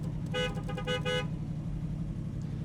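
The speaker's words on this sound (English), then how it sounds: "Check it out. Horn." A 1968 Chevrolet Camaro SS horn sounds in a rapid series of short honks from inside the car, followed by a steady low hum.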